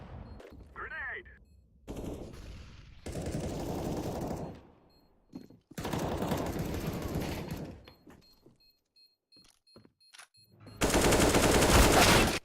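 Bursts of rapid gunfire from Counter-Strike: Global Offensive on the Cache map, loud clusters of shots separated by quieter gaps, with a final dense volley at the end.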